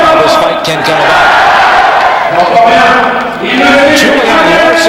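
Boxing arena crowd roars and cheers as the fighters' entrance builds through smoke and lights, a loud dense wall of voices with shouts and whoops throughout.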